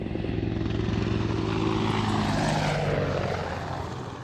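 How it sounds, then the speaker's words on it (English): A helicopter flies low over an airport runway, its loud rotor and engine roar steady and close, then fading slightly as it passes. "The helicopter is flying very down on the ground, trying to scatter people, to scare and scatter people."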